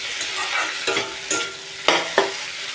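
Potatoes fry in oil in a pan, a steady loud sizzle with several sharp scraping stir strokes breaking through, close up and with no voices.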